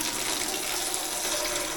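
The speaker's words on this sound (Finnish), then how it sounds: "kokeilepas tullaanko sitä vettä ensinnäkin" Water running steadily from an Oras Optima shower mixer during servicing, a constant hissing spray heard alone and fairly close.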